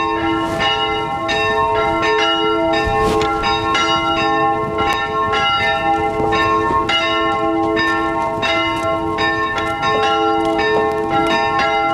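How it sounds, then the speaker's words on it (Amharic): Church bells ring at a monastery in Germany, sounding in a dense, overlapping series of clanging strikes that continue steadily throughout at moderate volume, with no voices. "የቤተ ክርስቲያኑ ደወል ድምጹን እያሰማን እንኳን ደህና መጣችሁ ይመስላል።"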